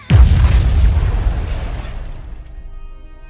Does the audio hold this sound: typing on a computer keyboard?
no